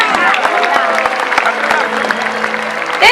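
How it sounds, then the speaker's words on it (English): A crowd at a SeaWorld San Diego orca show claps and applauds steadily in a large outdoor stadium, loud and continuous for a few seconds. "Everybody give her a big round of applause as she comes on up here."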